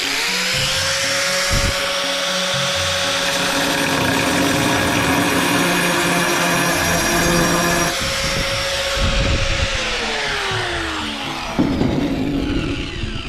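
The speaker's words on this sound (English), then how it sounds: "If I had to cut a round hole like that, with my grinder," An angle grinder cutting a round hole in tile, a loud continuous high whine with the pitch sagging under load, a brief break near the end as the disc spins back up, close throughout.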